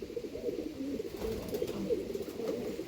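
A racing pigeon of an old line, in Baramati, gives soft, low, throaty coos in a continuous murmuring run, faint and close with no one speaking.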